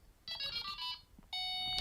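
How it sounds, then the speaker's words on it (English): A Delkim Rx-D receiver's anti-theft alarm sounds in short bursts of bright electronic beeping, a brief pulsing tone followed by a sustained steady beep. "that sets off the anti-theft on the receiver"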